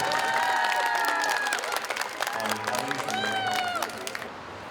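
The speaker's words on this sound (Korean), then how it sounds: "2019 유라시아 성균 한글 100일장 시상식을 거행하도록 하겠습니다. 큰 박수 부탁드리겠습니다." An audience applauds at the 2019 Eurasia Sungkyun Hangul writing contest award ceremony in Tashkent, with dense, steady clapping and crowd noise while a voice talks over it, the applause thinning toward the end.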